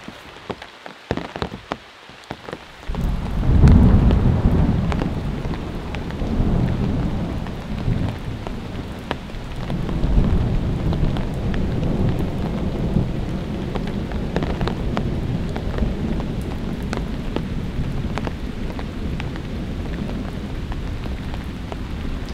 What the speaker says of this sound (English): I'm sure you all can hear it. It's storming outside.